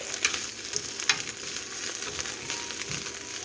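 Scrambled eggs sizzling in a pan as a utensil stirs them, a soft steady frying hiss with a few scraping stir strokes, close and fairly quiet, no talking.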